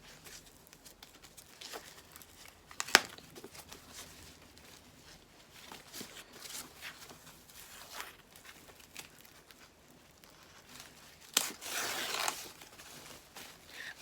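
A Kate Spade heart crossbody bag is pulled from its packaging with quiet rustling and crinkling of wrapping, broken by a few sharper crackles and a louder burst of paper crumpling near the end.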